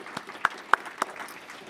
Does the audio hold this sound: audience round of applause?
yes